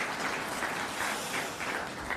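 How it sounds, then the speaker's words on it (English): Steady, dense applause fills a hall at an electricity safety summit as the crowd claps for the event staff, moderately loud and unbroken for a couple of seconds with no talking. "So a big round of applause for those people into this event."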